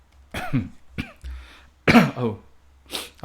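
Four or five close, separate coughs from a person with a cold, with short pauses between them, some sounding like throat clearing, with no talking.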